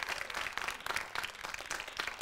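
A television studio audience claps in a quiet, fairly faint round, the hand claps scattered and uneven over a couple of seconds, heard from a little distance.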